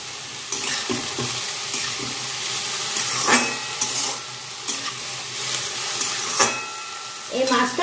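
Salted potatoes fry slowly in a small amount of oil, a steady nearby sizzle punctuated by occasional stirring scrapes and spatters, with no one talking.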